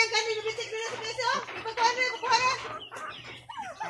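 Native chickens, including a black one, cluck and squawk over a low steady hum, with a person talking through much of it.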